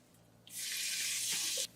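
A quarter cup of water pours into a pan of fried spices for mutton liver, making a loud, steady hissing rush that ends abruptly after about a second.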